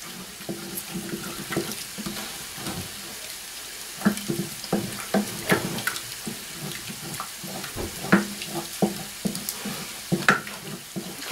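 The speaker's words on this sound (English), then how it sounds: "I'm adding now the milk. And I'm going to mix that together" Milk being stirred into a margarine and flour roux in a pan, soft scraping and sloshing strokes with small clinks repeating at an uneven pace, close by.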